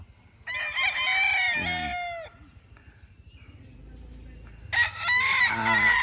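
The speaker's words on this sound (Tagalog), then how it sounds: "Ito yung white kelso, yung produce ko na ito, street breed na white kelso." A white Kelso street-breed rooster crows twice, loud and close, each call a long rising-and-falling cry. Softer clucking and low farmyard noise fill the gap between the crows, and one brief spoken word comes near the end.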